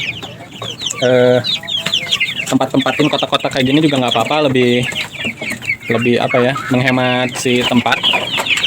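Merawang free-range chickens cluck around a backyard coop in a small yard, with a steady layer of busy bird calls running under someone talking throughout.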